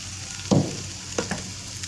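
Potatoes fry in a pan with green and red chillies, salt and gram flour, a steady soft sizzle broken by a couple of brief stirring scrapes, close and fairly quiet.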